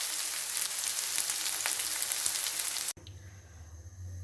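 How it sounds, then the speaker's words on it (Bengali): Bitter gourd slices fry in hot oil with a dense, steady sizzle and crackle for about three seconds, then cut abruptly to a quieter room hum. "সবগুলো বেজে নিই, তারপরে এরকম করে সবগুলোকে আমি বেজে নেব।"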